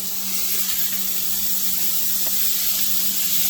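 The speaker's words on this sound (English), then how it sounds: "go ahead and put the bacon in our pan. Our pan is hot already." Strips of bacon sizzle in a hot, oil-free pan, rendering their own fat, giving a steady, even hiss and crackle that runs unbroken throughout.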